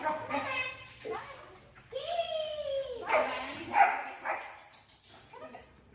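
A dog gives several short barks and yips, close by and uneven, with whiny tones, mixed with a person talking.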